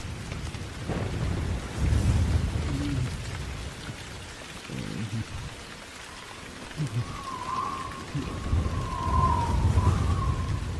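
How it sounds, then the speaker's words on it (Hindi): Heavy rain pours steadily while thunder rumbles and rolls in deep swells, and a thin wavering tone drifts over the storm near the end. "ऊपर से बारिश और तूफान ने मुश्किलें और बढ़ा दी थी।"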